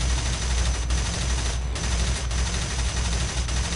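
A fighter aircraft's machine guns in War Thunder fire in a loud, dense, continuous rattle over a constant engine roar, broken by a few short pauses, with no speech.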